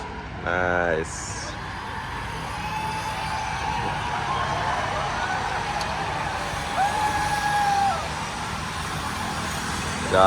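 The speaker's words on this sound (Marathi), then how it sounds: "त्याच्या मागे त्यांच्या मेंटेनन्सवाल्या गाड्या." Maintenance support vehicles roll past behind the riders of a cycle race, a steady road rumble of passing motors with a brief horn-like tone and a squeal near the end.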